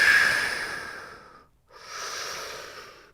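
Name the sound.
deep breathing during yoga downward dog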